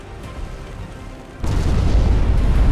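Battleship guns in Ultimate Admiral Dreadnoughts fire with a sudden loud boom midway, giving way to a heavy sustained rumble of explosions after a quieter low drone.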